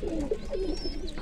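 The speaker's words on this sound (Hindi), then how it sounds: "बहुत ही खूबसूरत कबूतर है ये।" A kabli pigeon in a breeding loft gives soft, throaty cooing, a couple of rolling low calls close by, with faint background sounds and no talk.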